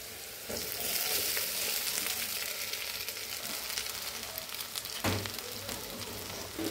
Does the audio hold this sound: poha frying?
yes